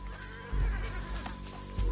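A horse neighs and snorts in Red Dead Redemption 2, a short whinny amid hoof clops and game sound, with players talking faintly.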